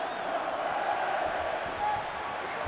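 A dense crowd roars continuously throughout, a steady wash of cheering with no single voice standing out, during an Anthony Pettis vs Jose Aldo fight in the video game EA Sports UFC 2.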